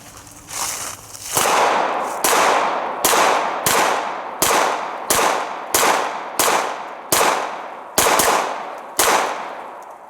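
A Springfield XDM Elite pistol fires about eleven sharp, loud shots at a steady, fairly quick pace, each crack ringing out briefly, as a magazine is emptied outdoors.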